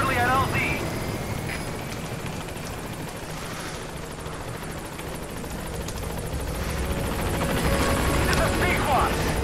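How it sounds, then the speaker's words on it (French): The Pequod helicopter in Metal Gear Solid V arrives with a steady rotor and engine roar, growing slightly louder toward the end as it approaches, with faint scattered game sounds over it. "on va appeler Pequod, donc mon hélicoptère"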